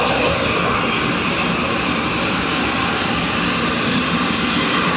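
An Etihad Boeing 777 jet roars past at Dublin Airport, a loud, steady broadband engine rumble that holds throughout without any voices.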